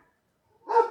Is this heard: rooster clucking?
no